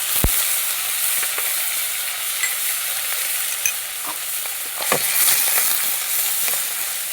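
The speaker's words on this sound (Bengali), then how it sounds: "এবার আমি দিয়ে দেবো পেঁয়াজ বাটা" Onion paste added to hot oil with ginger paste, frying for a fig dhokla curry. A loud, steady sizzle runs throughout, broken by scattered sharp clicks and scraping taps of stirring.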